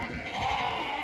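Rams bleat during treatment against parasites and ticks at a shepherds' pen in Uzbekistan, a close, drawn-out wavering bleat that holds for about a second over light background noise.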